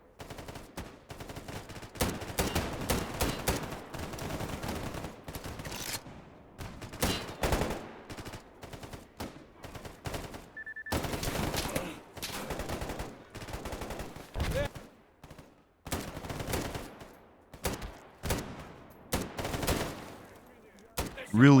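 Dense automatic and single gunfire bursts from the S.T.A.L.K.E.R. GAMMA shooter game, firing AP rounds at Monolith enemies, loud and near in rapid clustered volleys with brief pauses throughout.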